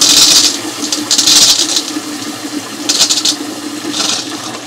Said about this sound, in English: I'll open the valve to get some water, just to flush out the lines